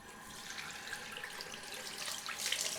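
Cold tap water running into a sink for a rinse after a straight-razor shave, a steady close splashing stream with no voices.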